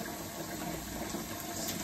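Hot water gushes steadily from a tap onto something frozen, a continuous close hiss and splash with no pauses.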